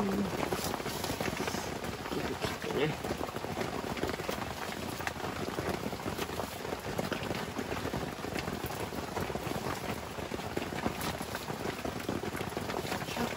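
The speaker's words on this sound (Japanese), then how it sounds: "もう焚き火できるような雨じゃないです。" Dense, steady downpour on an autumn day at Utarube campsite beside Lake Towada, a constant close hiss and patter of heavy rain drumming on surfaces throughout, with no speech.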